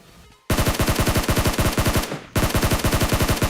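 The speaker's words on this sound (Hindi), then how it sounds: "क्योंकि काफी देर से फायरिंग चल रही थी यहाँ पे" Automatic gunfire in the battle royale game PUBG/BGMI, two loud rapid bursts of evenly spaced shots, close and sharp, with a short pause between them.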